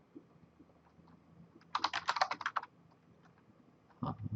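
Quick keystrokes on a computer keyboard enter a short password, a tight burst of close, crisp taps lasting under a second over a quiet room, with a few stray clicks afterward.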